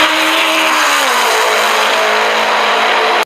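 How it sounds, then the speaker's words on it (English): Race car engine roaring loud and close, a dense sustained whine that holds steady for about three seconds before cutting off abruptly; no talking. "let's chill it out with the race car sounds"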